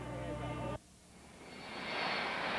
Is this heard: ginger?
no